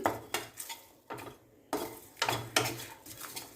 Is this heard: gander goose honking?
no